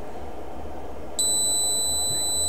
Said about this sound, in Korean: 10V 이하로 낮아졌더니 원하는 대로 잘 부저가 울리고 있죠